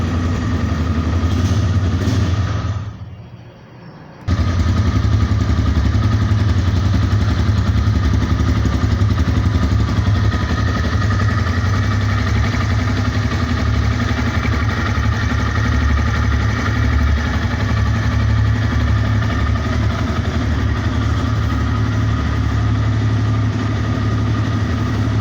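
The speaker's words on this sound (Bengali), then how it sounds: "চলুন বাইকটির সাউন্ড কোয়ালিটিটা দেখে আসি কেমন।" A 2025 TVS Raider motorcycle with about 3,058 km on it idling nearby: a steady, smooth engine putter with a low hum, briefly dipping quieter near the start before resuming evenly for the rest.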